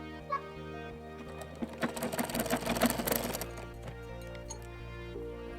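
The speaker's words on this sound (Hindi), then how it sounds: "किनारे किनारे पूरे में सिलाई लगा लेना है" A sewing machine stitches lace along the edge of a blouse, a steady mechanical whir building to a dense rapid run mid-stretch, then easing back to a quieter hum, close and clear with no talking.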